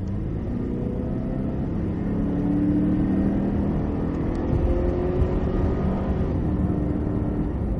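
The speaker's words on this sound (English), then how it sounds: "Squeeze down on power. Full throttle." A Cadillac CTS-V at full throttle on a racetrack: a steady, loud engine rumble with a sustained low drone and slight rising tones, heard from close by without any talk.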